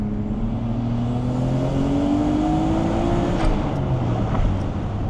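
A tuned Nissan Skyline R32 GT-R with a Stage 2, 600-horsepower build revs its engine, a loud, steady mechanical drone whose pitch climbs gradually and then eases back, with rough whirring texture throughout.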